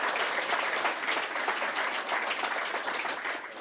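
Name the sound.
audience applause for the collaborators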